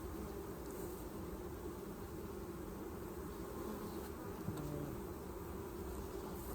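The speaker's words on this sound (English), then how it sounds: "look at all the hive bees in that one" Honey bees drone in a steady, dense hum around a strong hive set on a four-way pallet, the buzzing close and continuous with no talk.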